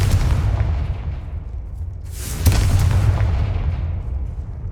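A Confringo fire spell bursts in Hogwarts Legacy with a loud, sudden blast over a deep rumbling bed, then a crackling, fading tail.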